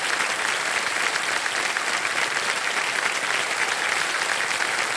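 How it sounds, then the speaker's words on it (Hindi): Sustained studio audience applause on a televised quiz show set, dense and steady throughout with no pauses, loud and close, with no talking over it. "तालियां बजती रहें इनके लिए"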